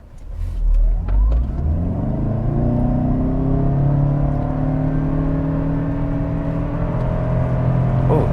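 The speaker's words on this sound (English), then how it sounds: "let's do another acceleration run here really quick" A 2021 Toyota Camry XLE Hybrid accelerating in normal mode, a loud close whir and engine drone rising steadily in pitch after a brief thump at the start, with no talk over it.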